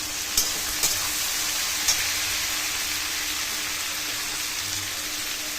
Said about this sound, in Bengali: ওই তেলের সাথেই আলুটি ভেজে নিচ্ছে এইবারে দিয়ে দিবে পিঁয়াজকালি কাঁচা লঙ্কা দিয়ে দিল